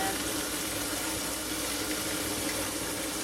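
Liquid bleach is poured into water as a steady, even splashing stream that lasts throughout, fairly faint, with no talk.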